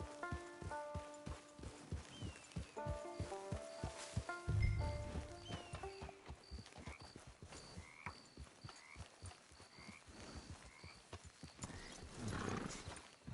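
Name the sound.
horse galloping and neighing in video game Red Dead Redemption 2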